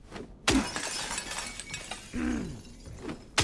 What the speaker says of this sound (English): Let's smash everything.